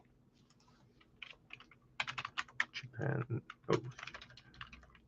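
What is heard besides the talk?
typing on a computer keyboard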